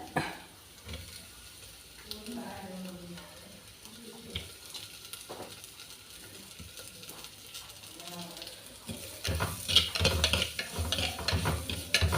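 Green chilies sizzling in a pan for rasam, a faint sizzle with stirring and utensil clinks under a voice, growing louder toward the end.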